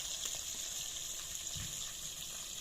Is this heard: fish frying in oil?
yes